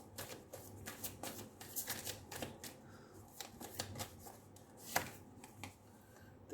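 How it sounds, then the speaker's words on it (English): Tarot cards are shuffled and drawn in a quiet room, with soft repeated riffling and flicking of the deck and one sharper card snap near the end, close and faint. "I'll take out one more card."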